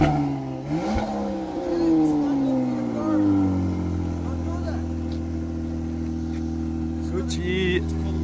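A Volvo S60 T6 with a Rica tune and an IPD exhaust runs on a dyno. The engine revs up with a rising then falling note and settles into a loud, steady, close drone, with a brief blip near the end.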